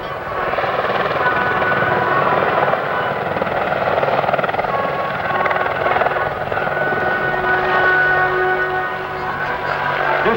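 An AH-64 Apache helicopter flies at an airshow, its loud, continuous rotor and turbine roar filling the air throughout, with an announcer's amplified voice mixed in beneath.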